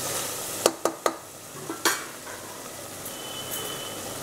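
Chicken kulambu masala frying as the oil separates, a quiet sizzle under a few sharp clinks and scrapes of a spoon against the pot, with no talk.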